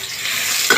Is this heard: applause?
no